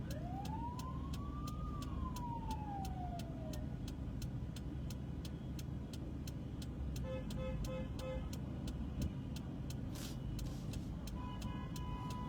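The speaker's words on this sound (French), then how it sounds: "il y a la sirène ou les sirènes de la police" Police sirens sound during a roadside caravan procession, a rising-falling wail sweeping up then fading in the first few seconds, followed by short toots and beeps over steady traffic rumble, with no talk.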